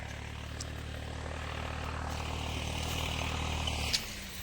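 A tractor readied to pull a plough in a farm field during sugarcane planting runs with a steady, droning engine hum that holds evenly, then drops off abruptly near the end.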